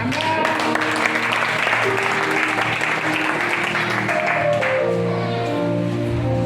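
A church congregation applauding during a French-language sermon, steady dense clapping with sustained organ-like musical tones underneath, loud and continuous throughout.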